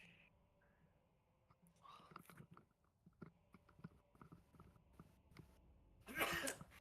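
A single person sneezes once near the end, a sudden loud burst after several seconds of quiet, soft mouth and body noises close to the microphone.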